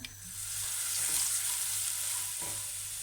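Finely chopped onion sizzles in olive oil in a pot as the base for a crab pasta sauce, a steady close hiss of frying throughout with a faint stir or two.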